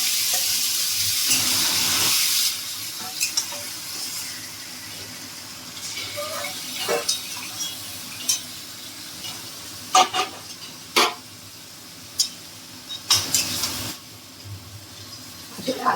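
Marinated chicken, left to marinate for forty minutes, hits a hot kadai for a roasted peanut chicken curry, giving a loud sizzle that settles into frying crackle with intermittent stirring clatter and scrapes.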